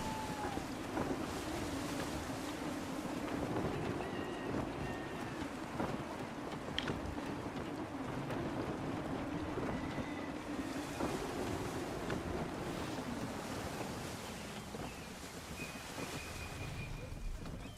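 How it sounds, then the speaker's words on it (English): Sailing ship at sea in Assassin's Creed 3, with gusty wind buffeting and ocean waves washing steadily around the hull, a continuous mid-level roar with occasional faint creaks and calls in the background. "Gusty winds can be difficult to manage."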